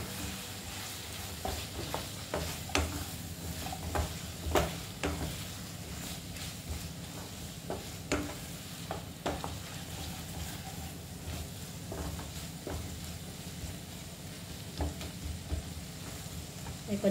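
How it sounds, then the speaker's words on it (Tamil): Potatoes and mushrooms sauté in a pan with a soft continuous sizzle, punctuated by repeated scraping and clacking of a spoon as the mixture is stirred, close and moderately quiet. "இப்போ இந்த உருளைக்கிழங்கு அதில் போட்டுக்குவோம்."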